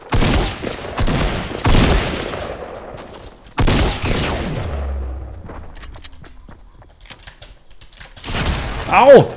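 Several sharp gunshot bursts ring out in a Fortnite Battle Royale match, clustered early and again mid-clip, loud and punchy, with a voice speaking between and after them.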